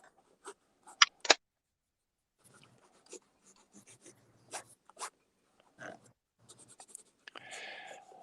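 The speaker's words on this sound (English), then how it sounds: "now I'm going to get a black pencil and add the darks" A black pencil scratches over gray paper, adding dark shading to a figure drawing in short, dry, intermittent strokes with brief pauses between them, close and fairly quiet.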